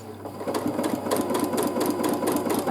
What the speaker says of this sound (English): I am quilting a teardrop shape